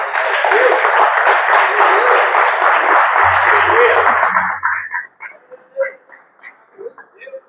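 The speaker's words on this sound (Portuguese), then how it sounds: "aplaudir o nome de Jesus" Congregation in a Portuguese-language church service breaks into dense, loud applause for several seconds, then the clapping thins and fades into scattered claps and murmurs.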